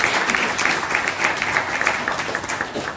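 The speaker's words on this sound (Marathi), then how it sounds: "त्या सगळ्या कार्यकर्त्यांना ज्यांनी हे काम केलं त्यांचं अभिनंदन करण्यासाठी एकदा आपण टाळ्या वाजवू।" An audience at a Diwali talk event applauds the volunteers with steady, dense clapping that fills the whole stretch at an even, fairly loud level, with no one speaking over it.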